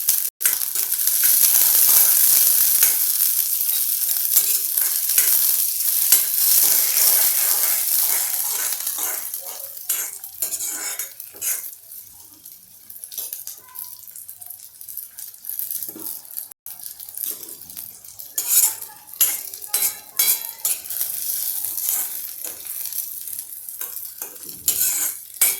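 Mixed vegetables and blanched peas sauté in oil for vegetable fried rice: a strong close sizzle for the first several seconds, then a quieter crackle broken by scattered clicks and scrapes of stirring.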